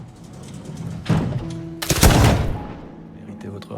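Gunfire from a shooting contest in the 2024 film Le Comte de Monte-Cristo: a couple of loud, sharp shots ring out with echoing reverberation over a rumbling film soundtrack.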